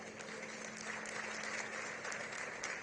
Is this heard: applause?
yes